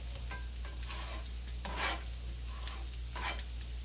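French toast with cinnamon fries in a pan with a steady sizzle, while occasional scraping stirs and turns of a utensil come through close and clear without talk.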